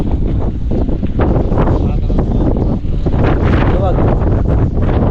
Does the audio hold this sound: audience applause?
no